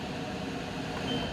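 A Coway AP-1008CH air purifier running on its turbo setting gives a steady, loud broadband whoosh of fan and rushing air, constant and unbroken throughout with no voices.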